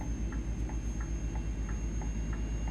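Turn signal in a truck cab in Euro Truck Simulator 2 ticks in a steady, even rhythm, about three clicks per second, over a low engine drone.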